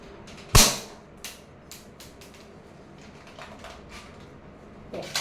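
Realistic toy pistol fired, one sharp loud crack near the start followed by fainter clicks and mechanical handling noises, and another snap at the end.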